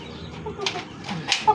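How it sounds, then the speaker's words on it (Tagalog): Chickens, including a large rooster, clucking with short bursts of wing flapping up close, a few brief scattered flurries over quiet farmyard background. "Manok."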